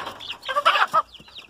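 Chickens and chicks of a fighting-breed flock clucking and peeping in short, close, irregular calls over a second and a half.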